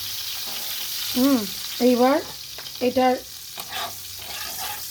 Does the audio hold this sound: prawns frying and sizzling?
yes